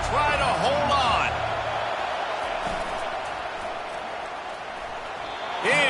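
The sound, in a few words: stadium crowd cheering at a college football game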